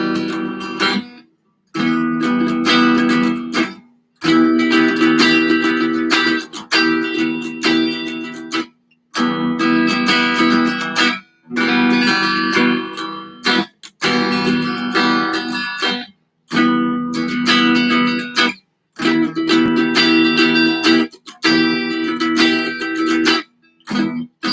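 Electric guitar strums a sequence of chords, each ringing for a couple of seconds with brief gaps between, loud and close with no talking.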